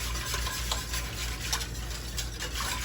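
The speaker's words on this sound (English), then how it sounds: "stir it almost constantly, because this will thicken extremely quickly right before the boil" A spoon works steadily through a thickening sauce in a pan for pressure-canned Swiss steak, soft repeated scraping strokes close by over a low steady simmering hiss, with no talking.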